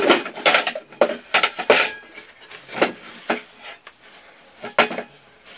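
Metal camping cooking pots scrape and clank as one is worked free from inside another, giving a series of close, irregular knocks and rubbing rasps with short pauses between them.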